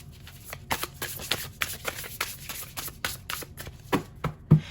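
Tarot cards being shuffled by hand, a run of quick papery riffles and flicks in an uneven rhythm, close and fairly quiet, with no talking.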